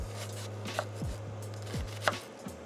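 A knife chops a quarter of a red onion into small pieces on a board at a camping setup, with a few close, crisp, irregular cuts over a low steady hum.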